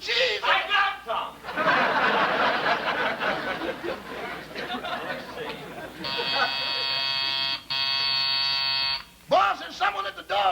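A door buzzer in a radio comedy sounds as a steady, harmonic electric buzz lasting about three seconds, close and loud, following a stretch of voices and light laughter, with a shorter buzz burst near the end.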